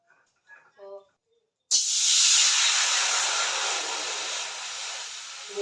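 Water poured into a hot pan to melt jaggery bursts into a loud, sudden hiss of steam that slowly fades, preceded by a brief spoken phrase.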